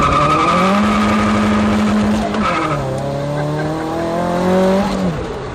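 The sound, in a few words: Nissan 240SX with SR20DET engine driving on closed course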